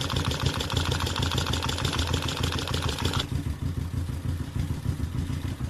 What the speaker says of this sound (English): There are little arms that are pressing the valves up and down, hitting them. It's called valve lash.